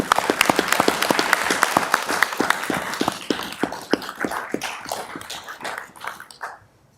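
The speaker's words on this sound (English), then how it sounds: "That was the American Legion Post 151." Applause at a city council meeting for parade winners, including American Legion Post 151: sharp individual claps from a modest crowd, loud and close, thinning gradually and stopping near the end.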